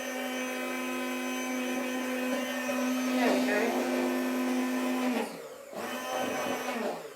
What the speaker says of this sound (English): while the hand blender is actually on, I need to start adding our oil